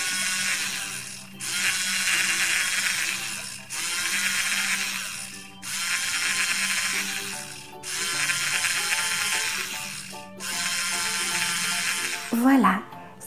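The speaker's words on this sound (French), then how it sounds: "on va être obligé d'utiliser la fraise dentaire pour creuser un petit peu la dent" A Play-Doh toy dentist drill whirring in six steady bursts of a couple of seconds each, separated by short pauses, close and fairly loud, with a voice over them at the end.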